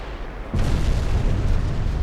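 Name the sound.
battleship secondary guns firing in Ultimate Admiral Dreadnoughts video game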